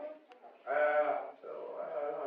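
A voice imitates a cow mooing with a drawn-out, nasal low call in two pulses, close and fairly loud, with a short sound just before.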